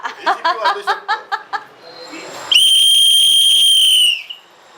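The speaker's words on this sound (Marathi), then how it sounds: "मला ही शिट्टी वाजवा ना" Someone laughs in short rhythmic bursts, then blows a single loud, steady whistle that holds for about a second and a half before stopping.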